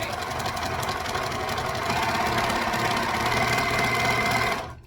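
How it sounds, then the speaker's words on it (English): An overlocker stitches fabric with a continuous fast mechanical whirr and rattle, close and steady for several seconds before cutting off abruptly at the end. "We can just overlock it"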